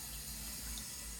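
Steady water rushing out of a boiler bleed point as the flow is increased, a continuous close hiss and gurgle with no talk over it.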